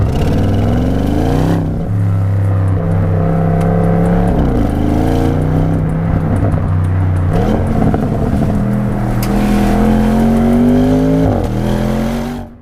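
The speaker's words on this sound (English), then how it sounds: "there's always this cultured V8 woofle to it" Audi RS6 twin-turbo V8 engine heard up close and loud, a deep continuous burble that rises and falls through several rev climbs, with occasional coughs and pops.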